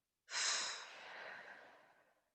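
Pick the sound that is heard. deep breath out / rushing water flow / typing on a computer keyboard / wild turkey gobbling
deep breath out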